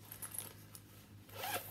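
A zipper on the back pocket of a Kipling handbag being pulled, a short close ratcheting zip with small clicks, quiet and alone without talk.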